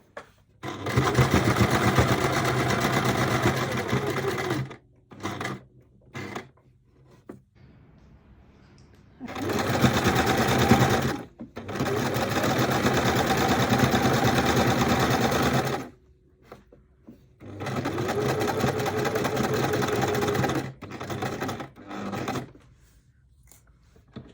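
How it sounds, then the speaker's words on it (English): A sewing machine stitching linen shorts runs in three long steady bursts of whirring, each several seconds long, separated by pauses with faint handling noises, close and fairly loud. "I'll sew it now"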